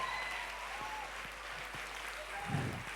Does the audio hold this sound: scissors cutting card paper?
no